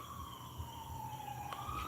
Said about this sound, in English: Is that the ambulance?